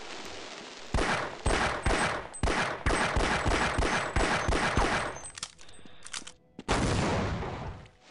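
Gunfire in Half-Life: a rapid string of loud, close shots in a steady rhythm, a brief lull with mechanical clicks, then another heavy blast that rings out, with no speech over it.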